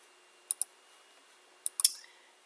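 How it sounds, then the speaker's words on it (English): Sharp computer mouse clicks on a menu item: a quick pair of close clicks, a pause of about a second, then another pair, all near and crisp over a quiet background. "So when I click on this item"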